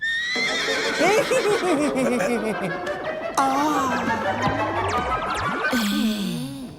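A voice imitates a horse neighing, with long wavering whinnies repeated over several seconds, loud and close.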